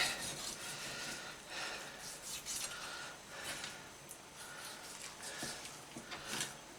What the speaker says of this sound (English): it's just about taking off the bigger pieces of the leg meat